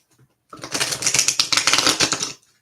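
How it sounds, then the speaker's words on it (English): A fresh, stiff new tarot deck being shuffled, a close run of rapid crisp riffling clicks lasting about two seconds after a brief quiet start. "It's like so hard for me to"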